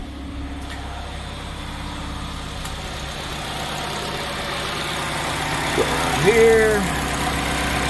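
A 2007 Chevy HHR with the 2.4 Ecotec engine idles steadily after startup, a low continuous hum throughout with its mass airflow sensor unplugged, while a person speaks briefly nearby.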